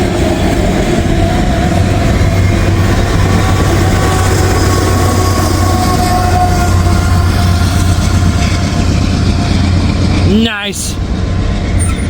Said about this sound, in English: DPU coming through.